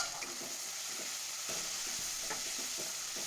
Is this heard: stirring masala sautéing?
yes